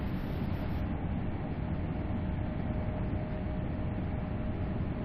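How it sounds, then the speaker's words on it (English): A British HST high speed train's diesel engine and exhaust give off a loud, steady rumbling drone that holds an even level throughout, with no voices. "I love the engine sound, the exhaust sound."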